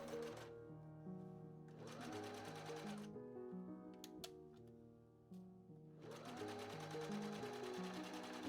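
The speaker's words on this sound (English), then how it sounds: "I then stitched the front pieces to the back." A sewing machine stitches taffeta gown pieces in bursts of steady mechanical whirring, running for a few seconds, pausing, then starting again, heard close with soft music underneath.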